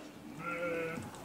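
A single drawn-out goat bleat, wavering and fairly close, rises from a goat farm in Dubai and fades after about half a second over a quiet background.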